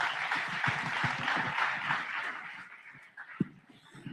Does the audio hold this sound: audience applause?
yes